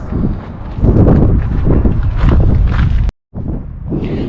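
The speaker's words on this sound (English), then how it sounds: "Awfully windy up here" Strong wind buffets the microphone on a rooftop with a loud, rumbling roar that drops out for a moment before resuming.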